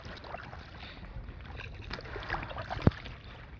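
Small boat paddled on a lake during a Labor Day camping trip, soft low splashing and water movement with a brief sharp knock near the end, faint and steady with light wind noise.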